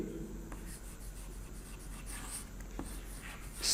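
Writing on a board during a number system lecture, a soft faint scratching and tapping with a few light strokes over a quiet room background.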